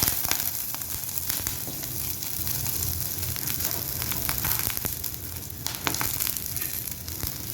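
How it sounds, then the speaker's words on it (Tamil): Chicken rolls crisp-frying in hot oil give a steady, dense sizzle with scattered pops and crackles, close and continuous throughout with no talking. "ஃப்ரை பண்ணலாம்."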